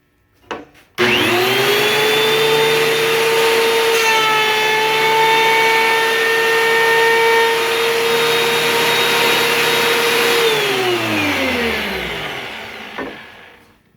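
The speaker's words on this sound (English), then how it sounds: "Let's plane this 2x4 and see how much dust comes out of the chute over here." A DeWalt DW734 thickness planer feeding a 2x4 through, a loud steady motor whine with cutterhead roar that holds for about ten seconds, then winds down as the board exits.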